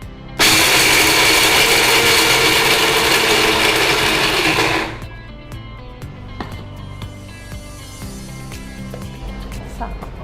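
A mixer grinder coarsely grinds heated ingredients in a loud steady whir for about four seconds, then cuts off, leaving quiet clinks and kitchen noise.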